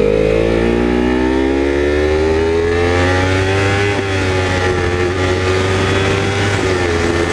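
Motorbike engine hums steadily while riding low on petrol, a loud continuous drone with a slowly rising pitch and wind rush, close to the rider and with no talking.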